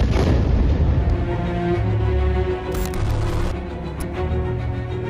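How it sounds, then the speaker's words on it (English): Explosion from the bombing of an Islamic university building in Gaza, a loud, heavy rumbling blast that fills the whole clip with sustained low roar and debris crackle, and no talk. "This is the moment when an Islamic university was bombed and flattened."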